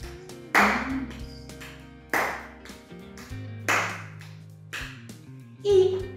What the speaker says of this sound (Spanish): Con las palmas.